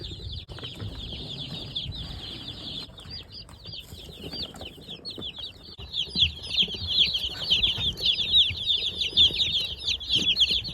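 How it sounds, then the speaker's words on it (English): A crowd of baby chicks peeping, constant high shrill cheeps that overlap densely and grow louder and busier toward the end, over faint low rustling. "And the baby chicks are here."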